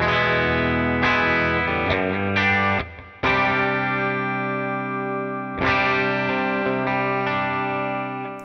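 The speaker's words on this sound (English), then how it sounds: "Let's go to bridge pickup and split coil." Hartwood Fifty6 electric guitar fitted with a Bigsby, played through distortion on the bridge pickup with the coil split, ringing sustained chords struck several times, each left to decay before the next strum.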